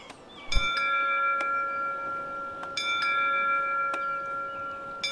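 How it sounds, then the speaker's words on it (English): A ship boarding bell in the video game Leaving Lyndow rings out as clear sustained chimes, struck several times at irregular intervals over a soft background hiss, with each tone ringing on between strikes. "The bell will sound soon."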